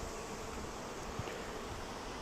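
Honeybees drone at an open hive during a swarm-prevention inspection, a dense, steady buzz of many insects close by with no speech.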